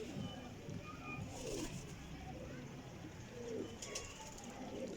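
Flying pigeons cooing, low soft repeated coos from several birds close by, over a steady background hum.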